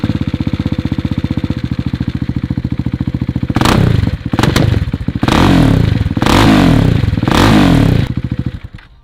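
A motorbike with its exhaust dB killer removed idles with a loud, rapid, close-up thumping beat, then is revved hard several times in bursts of roaring exhaust before dropping back and fading toward the end.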